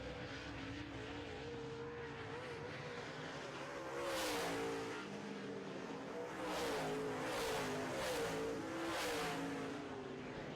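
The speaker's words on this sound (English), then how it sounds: "Nosted pushes going into turn number 2, and that allows Mike Martin to get right up on his back bumper" Late model race cars roar around a short oval track in heat races, engines droning continuously with repeated louder passes and rising revs as the pack sweeps by, moderately distant and without talk.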